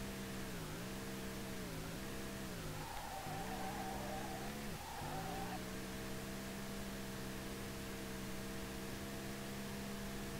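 Car engine in the driving game SLRR, drifting hard near the redline: a steady harmonic engine drone that dips and rises with throttle changes and tyre scrub, continuous and up close with no talking.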